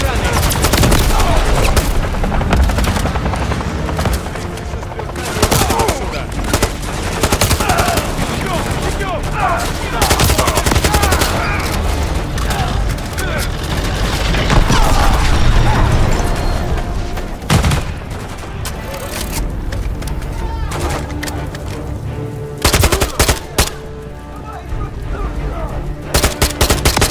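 Dense gunfire from the Call of Duty Modern Warfare III video game, with sustained automatic bursts and shots that barely pause across the stretch. Shouted voices break through the loud shooting at points.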